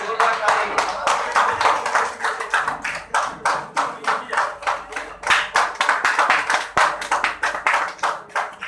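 Audience at a company team meeting in Jamshedpur clapping steadily and loudly throughout, a dense close crowd of hands with a rhythmic pulse and a voice speaking over it at times.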